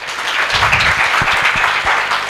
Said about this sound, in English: I think she deserves a better clap than that.